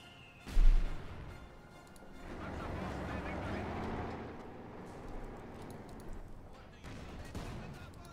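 Heavy tank cannon fire in the real-time strategy game Company of Heroes 2, with a Panther opening up on a field gun: a sharp loud blast near the start, followed by rumbling battle noise and scattered distant shots.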